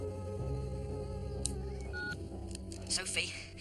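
A telephone in a phone box is dialled, a run of electronic keypad tones sounding close and clear over a steady low hum, with brief higher beeps toward the end.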